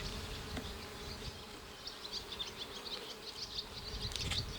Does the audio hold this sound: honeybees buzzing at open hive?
yes